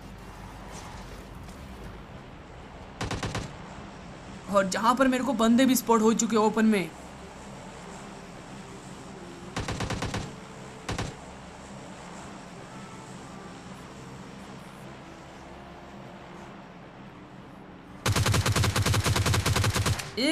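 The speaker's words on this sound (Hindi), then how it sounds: "स्टेडियम की साइड से मेरे को कुछ यहाँ पे गन साउंड्स आते हैं" Sharp bursts of gunfire from the battle royale game PUBG Lite erupt in short volleys at intervals, with the last and longest burst at the end, while someone talks over the quieter stretches between.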